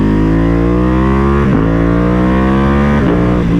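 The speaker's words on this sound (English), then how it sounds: "So this is where I kind of scrub these tires in." Ducati Panigale V2 sport motorcycle revving hard with a loud, steady harmonic engine roar, its pitch rising in two surges with brief throttle dips around each, close up and without talk.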